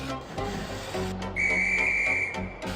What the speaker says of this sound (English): when the guard's whistle blew